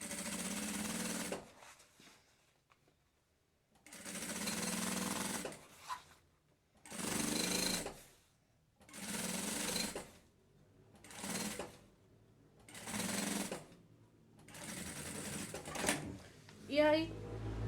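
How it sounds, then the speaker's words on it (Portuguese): Sewing machine stitching the edge of a lunch bag, running in about seven short bursts of rapid mechanical stitching separated by brief pauses, fairly close and clear. "vou vir costurando aqui na ponta"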